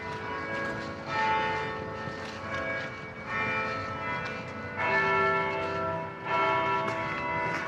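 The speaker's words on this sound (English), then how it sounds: "Oh, we are just in time for the bells." Church bells ring at Leicester Cathedral, a full peal of overlapping strikes in repeated waves, loud and close on a windy street.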